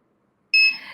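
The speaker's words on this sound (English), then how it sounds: "there is a power cut here. Sorry about the beeps" A single sharp electronic beep from an alarm during a power cut starts abruptly after half a second of silence, loud and close, with a steady piercing tone that tapers slightly.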